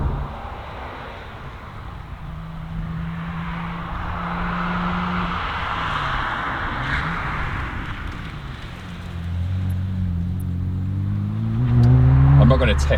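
A BMW 1M accelerates hard from a standstill on a straight road, its engine note climbing steadily and growing louder toward the end, heard from inside the car with road and wind noise underneath.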